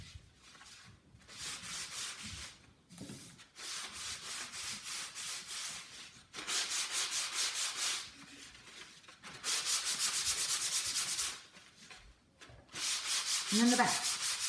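Edges of a field journal being sanded by hand, with repeated bursts of rough scratchy rubbing separated by short pauses and a soft rustle of handling near the end.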